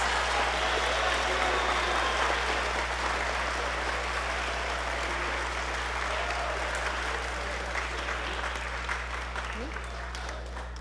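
Sustained applause from a concert audience honouring award-receiving students at a school spring band concert, a dense, steady wash of clapping that fades slightly toward the end, with a low hum beneath.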